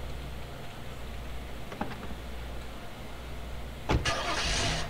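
In a GTA video game, a 1965 Plymouth Belvedere station wagon's engine cranks and catches after a low background idle, with a short burst of starter noise followed by a louder running engine.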